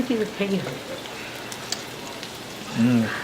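Okra sautéing in oil with other vegetables in a frying pan, a steady, soft sizzle throughout with a voice speaking over it at the start and end.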